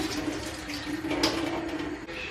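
Liquid draining from opened canned garnish through a strainer into a sink, a soft steady splash and trickle, fairly quiet and brief, with no talking.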